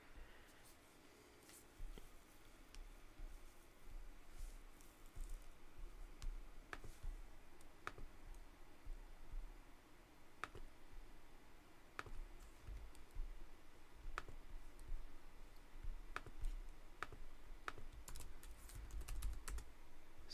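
Computer keyboard typing and mouse clicks at a desk, heard as quiet scattered keystrokes and sharp clicks over a low room hum, without voices.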